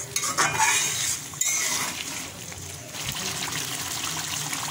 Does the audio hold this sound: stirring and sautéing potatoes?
yes